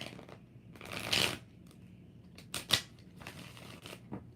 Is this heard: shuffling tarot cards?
yes